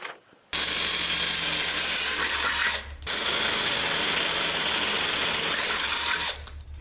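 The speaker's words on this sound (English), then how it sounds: "Now it's time to drill another hole in the process of getting the speed nut to work." A power drill runs loud and steady while boring a hole in a GMC Safari or Chevrolet Astro core support, in two sustained bursts separated by a short pause, with no talking.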